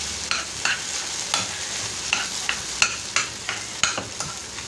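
Egg masala fries in a pan while being stirred, a steady sizzle broken by regular scraping strokes of the spoon, close and fairly loud, with no one talking.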